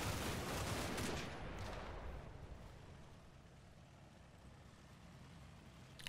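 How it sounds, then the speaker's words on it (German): Bursts of simulated gunfire from a battle in the strategy video game Combat Mission Red Thunder, a dense crackling volley that fades into a steadier rumble of distant shooting, with no voices. "Jetzt bekommen wir noch von woanders Feuer rein."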